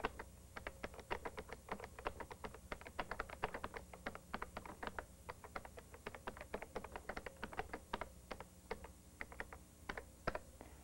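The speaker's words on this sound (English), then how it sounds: "all you do is just type in your message" Steady, rapid computer keyboard typing of a modem message, many close clicky keystrokes in irregular bursts throughout, with no talking.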